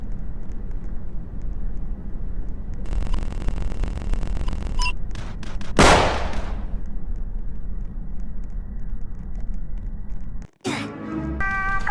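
A single sharp gunshot rings out in the Roblox Squid Game video game, loud against a steady ambient rumble, followed later by a brief dropout and some electronic tones.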